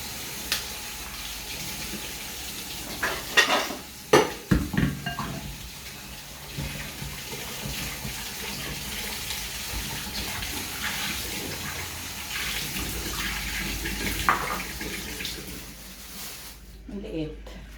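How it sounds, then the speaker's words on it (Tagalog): Running tap water splashes steadily as tamarind (sampalok) is washed for sinigang at a kitchen sink, with a continuous mid-level gush and a few louder clatters and splashes, and a person talking over it. "Ayan guys, hugasan natin sampalok."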